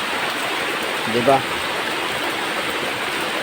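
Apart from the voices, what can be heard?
heavy rain pouring down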